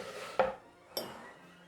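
Strained peas tipped into a salad bowl for a banana and pea salad, heard as two brief, close clattery knocks of utensil on dish with quiet pauses between.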